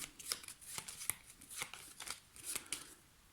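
The flood deck of cards from the board game Forbidden Island being shuffled, with several quick riffling bursts and soft flutters close by, fairly quiet, with no talking.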